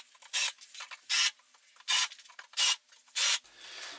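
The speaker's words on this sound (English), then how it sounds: "we're just going to countersink it to make sure that there's no bits that can hurt the rabbit's feet" A countersink bit cuts into a screw hole in soft pallet wood, giving five short raspy grinding bursts with brief pauses between them, close and fairly quiet with no talk.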